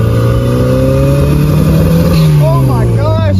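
Turbocharged MGB engine with its wastegate zip-tied shut revs hard, a loud steady drone with a rising pitch sweep near the end, close up and continuous, with voices faintly mixed in.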